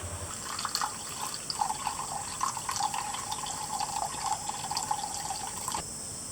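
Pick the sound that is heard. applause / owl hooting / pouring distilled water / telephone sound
pouring distilled water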